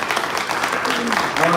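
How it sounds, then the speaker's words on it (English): Audience applauding a panel at a startup founders' event, steady clapping filling the short moment and growing slightly toward the end. "One more round of applause for our panel."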